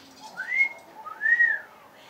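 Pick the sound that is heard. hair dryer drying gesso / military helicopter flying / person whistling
person whistling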